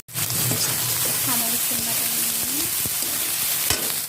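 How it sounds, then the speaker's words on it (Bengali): Chili paste frying in hot oil in a wok, a loud, steady sizzle with bubbling crackles and a few sharp spatters, close up, with a voice speaking under it. "কড়াই তেল দিয়ে দিলাম, আমার চিলি বাটা"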